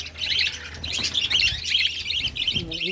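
Pet baby birds on a balcony chirp steadily during hand feeding, a close cluster of bright, rapid tweets that keeps going throughout, with faint low handling noise underneath and no talking.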